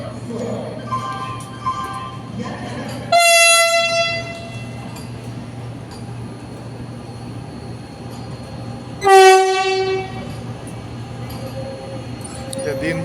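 The Amritsar Mail, a very long passenger train, stands at Deen Dayal Upadhyaya station with a steady rumble, while two loud, sharp horn blasts sound several seconds apart.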